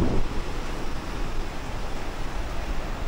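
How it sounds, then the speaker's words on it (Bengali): Sea waves at Digha beach, a steady broad wash of surf with wind noise on the microphone, continuous and fairly loud with no talking. "আর দেখো এই হচ্ছে সমুদ্র।"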